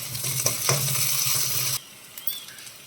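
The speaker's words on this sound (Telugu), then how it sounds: "కరివేపాకు వేసుకుందామండి" Curry leaves hit hot oil with cumin, onion and green chilli for a brinjal tomato curry, a loud crackling sizzle with a couple of clinks that cuts off abruptly, leaving faint quiet handling noises.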